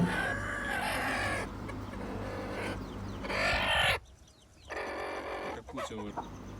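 Native desi hens on a rooftop farm cluck repeatedly at close range, a busy, uneven chorus that drops away for a moment, then resumes with more scattered clucks.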